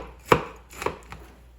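A big metal spoon working through meatloaf mix in a bowl, three dull thudding strokes with wet scraping, close and alone.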